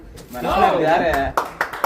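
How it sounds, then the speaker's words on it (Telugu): An audience claps after a voice speaks, giving a few sharp, scattered claps at close range. "అందరూ అయితే చప్పట్లు కొడుతున్నారు ఇక్కడ ప్రేక్షకులు"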